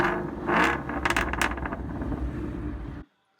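Hennessey HPE 850 Shelby GT350 engine revving up, with a loud surge of rising, rattling mechanical roar and whir that holds briefly before cutting off into silence.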